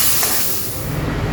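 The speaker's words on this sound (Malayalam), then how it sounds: "അപ്പോൾ അതിലേക്ക് നമുക്ക് ഉള്ളി മൂപ്പിച്ച് കാച്ചി ഒഴിക്കാം" Onions fried in coconut oil are poured as a tempering into a boiling fish curry, giving a steady, loud, close hiss of sizzling with no talk.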